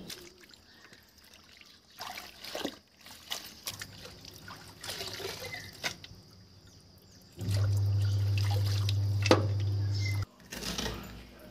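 Chopped leutia spinach leaves being washed in water give a steady trickling and splashing that swells louder in the second half, with a low continuous hum beneath; no one speaks.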